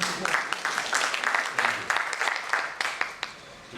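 An audience at a talk on plastics and sustainability breaks into applause, a steady patter of many hands clapping at moderate distance for a few seconds, fairly soft overall.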